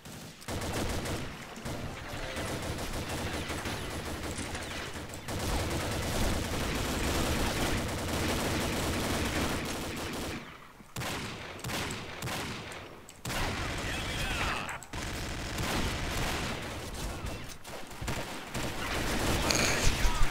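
Dense gunfire in the video game Combat Arms, nearly continuous bursts and rapid automatic shots with brief gaps, loud and close throughout.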